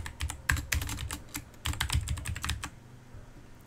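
Rapid typing of TypeScript code on a computer keyboard, close and clear, with bursts of quick key clicks broken by a short pause before the typing resumes, and no talking.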